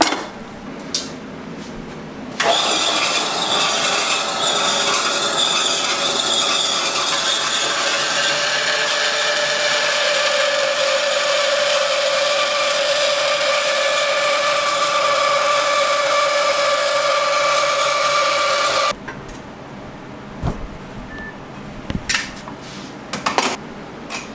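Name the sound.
bandsaw cutting metal rod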